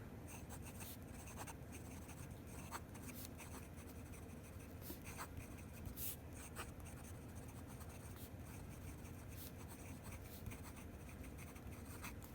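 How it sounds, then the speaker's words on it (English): A Jinhao X750 fountain pen scratches quickly across paper, a faint, close, steady scritching with small rhythmic strokes and occasional ticks as the nib lifts, heard alone without speech. "So just fast writing."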